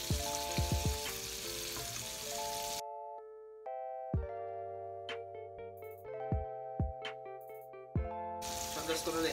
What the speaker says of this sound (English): So I'm just gonna let these fry